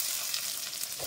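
Onion frying in a pan for an Agri prawn masala, a brief close hiss of steady sizzling oil with no other sounds.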